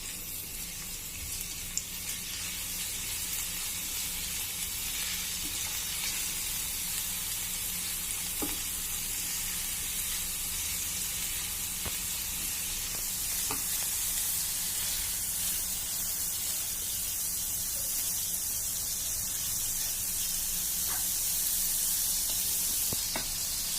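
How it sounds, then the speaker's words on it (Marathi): Ginger garlic paste and green chili fry in a pan over a medium flame, a continuous close sizzle with occasional stirring scrapes and faint clicks. "आता आपण यामध्ये आलं लसणाची पेस्ट घालणार आहोत, छानपैकी परतून घ्यायची ही पण पेस्ट।"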